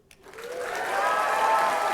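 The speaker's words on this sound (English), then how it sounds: "The grads can clap really a lot." Graduates clapping at a university chemical engineering graduation ceremony, the applause swelling in quickly after a brief quiet start and settling into steady, moderately loud crowd clapping.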